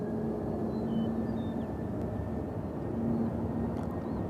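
A JetBlue airliner departing Nashville International Airport gives a steady, broad jet roar at moderate distance, continuous and unbroken throughout.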